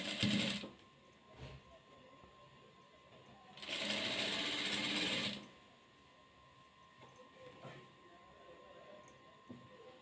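A sewing machine stitches the sleeve of a chudi top, with one loud sustained run of about two seconds in the middle and a short burst at the start. Quieter mechanical ticking fills the gaps between runs.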